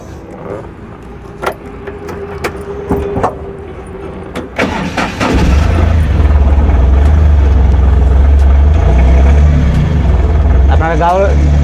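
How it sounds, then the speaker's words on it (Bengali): A second-hand Ashok Leyland Dost truck sits at rest while a few clicks and knocks sound. The engine then cranks and catches about halfway through and settles into a loud, steady diesel idle, with someone talking briefly. "গাড়িটা আপনাদেরকে একটু স্টার্ট করে দেখে দিচ্ছি কেমন রয়েছে"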